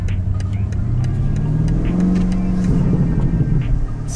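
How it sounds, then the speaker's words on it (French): BMW M850i V8 in sport mode on the move, a low, steady engine and exhaust drone with a mild rise in pitch midway, close and continuous under road noise. "Donc vous profitez de la mélodie du V8"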